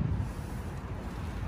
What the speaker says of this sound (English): I guess it's too windy, huh?